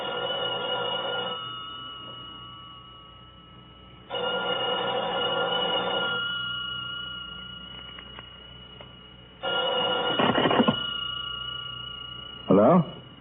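An old-fashioned telephone bell rings in three long bursts separated by pauses, loud and near, in an old radio mystery drama, with brief clattering and a voice at the very end.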